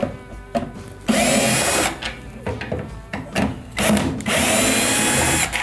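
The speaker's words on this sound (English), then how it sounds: "So now we'll remove the front 2 screws here that hold in this dispenser housing here." A power drill backs out the two front Phillips head screws on the dispenser housing of an LG washer, its motor whirring in several bursts, close and loud, with short pauses between runs.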